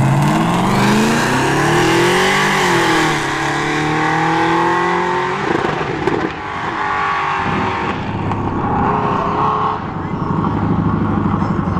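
An SN95 Mustang's engine roars loud and close at a test-and-tune drag strip, rising and falling in pitch through the run. Another engine fades in behind it, and a commentator talks over it.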